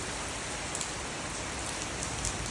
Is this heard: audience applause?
no